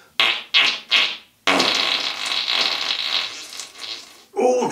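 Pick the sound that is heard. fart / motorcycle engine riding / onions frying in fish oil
fart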